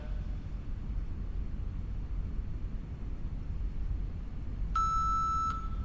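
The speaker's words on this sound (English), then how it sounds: "that's the end of our timer" Workout interval timer beeping near the end of a mobility stretching session: one steady electronic tone about a second long rings out over a constant background hiss.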